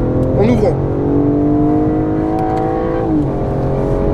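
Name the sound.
BMW M5 CS engine revving at full throttle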